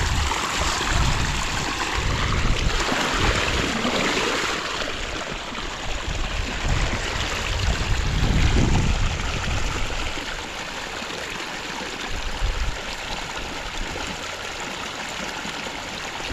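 Water drains and trickles away after plants are watered, a steady close wash of flowing water with surges and no speech.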